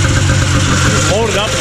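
A 1980 Yamaha Enticer 300 vintage ice oval race snowmobile engine idles steadily and loudly up close with a low, even drone, a voice briefly heard over it.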